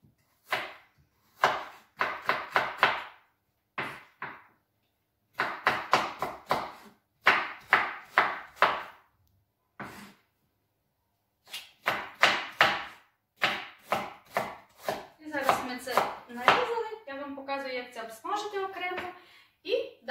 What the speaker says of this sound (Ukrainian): Морквочку також соломкою.